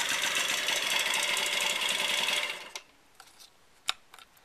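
A Yamaha Yamahopper moped engine runs with a steady, buzzing drone, then is switched off at about the two-and-a-half-second mark and falls quiet, leaving only a few faint clicks and knocks.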